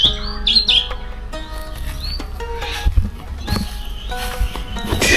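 Many birds chirp and tweet around a rural house in Thailand, with several overlapping calls rising and falling throughout, fairly close and clear over a low steady background hum.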